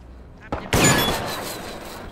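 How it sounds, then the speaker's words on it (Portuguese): Gunshots in the video game Deceit: two sharp reports in quick succession, the second louder with a decaying echo, heard close and alone. "Sou eu que tô dando tiro."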